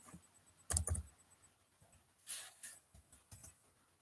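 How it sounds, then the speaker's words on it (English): A few short bursts of computer keyboard typing, faint clicks and taps in a quiet room, with pauses between groups of keystrokes. "So if I type something, does it come up?"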